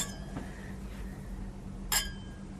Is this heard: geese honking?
no